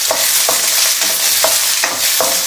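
Onion stir-frying on high heat in a pan for chicken noodles makes a constant loud sizzle, broken by about six rhythmic scraping strokes of a utensil stirring it, close up and with no talking.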